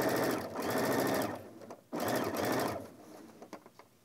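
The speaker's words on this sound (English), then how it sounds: "Stitch it down. Be sure to backstitch when you start this." A sewing machine stitches a bag in quick, close bursts of rapid mechanical chatter, pausing briefly between runs as it stitches forward and backstitches, ending with a few slower single clicks.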